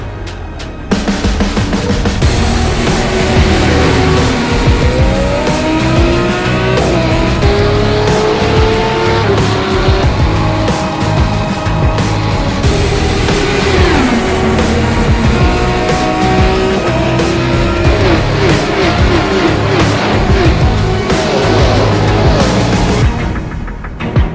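Race cars in the iRacing sim game at Circuit de Spa-Francorchamps scream past in a loud, continuous engine roar, with shifting gear pitches, tire squeal and skidding throughout, near and intense.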